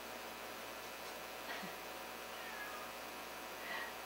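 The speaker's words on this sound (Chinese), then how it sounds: "My cat is outside of the door." A cat meows outside a door, a few faint, brief cries rising out of a quiet room's steady background hiss.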